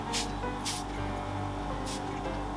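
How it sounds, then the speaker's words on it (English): Three quick hissing spritzes of makeup setting spray misted onto a face, close by, over a low background hum. "I'm going to spray this all over my face."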